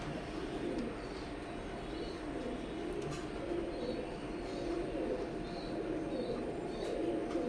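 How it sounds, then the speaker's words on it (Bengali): Cooing from a pair of imported KTM bloodline teddy pigeons, a male and a female, kept as breeders; soft low coos repeat steadily over a constant broadband background hum. "এখন স্ক্রিনে যেটা দেখতে পাচ্ছেন কেটিএম ব্লাড লাইনের কবুতর এক পেয়ার।"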